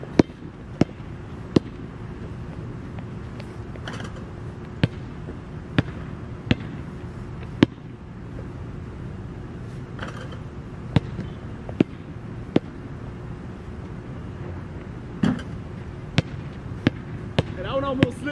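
A basketball bounces on a court during a quick round of shots by a player wearing Adidas NMD R1 V2 shoes, giving sharp, irregularly spaced thuds over a low, steady background hum.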